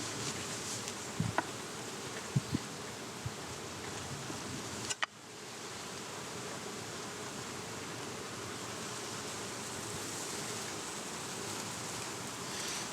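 Honeybees buzz steadily inside an opened hive box being inspected for comb on black plastic foundation, a dense continuous hum with a few faint knocks early on and a sharp click partway through.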